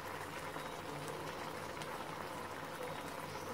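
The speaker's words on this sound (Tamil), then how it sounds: "நல்லா கொதிக்கட்டு, நம்ம இதை மூடி வச்சிடலாம்." White peas kurma boiling in a pot on the stove, a soft, steady bubbling and simmering hiss, faint and continuous without talk.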